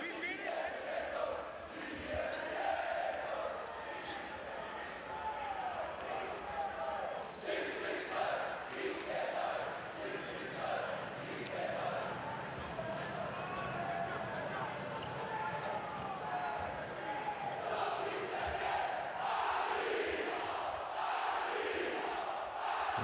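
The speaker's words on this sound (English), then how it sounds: "This crowd is really rocking and rolling here in Włocławek tonight." A basketball arena crowd in Włocławek roars through a Basketball Champions League game between Anwil and Le Mans, a dense sustained din of cheering and chanting with occasional ball bounces and a commentator talking over it.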